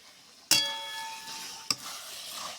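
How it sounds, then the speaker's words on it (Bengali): Yogurt-marinated chicken dropped into a hot pan bursts into a loud sizzle at once, then keeps frying steadily while a second sharp clatter of stirring cuts in partway through. "কষা হচ্ছে, মাংসটা ম্যারিনেট করা মাংসটা ছাড়লাম"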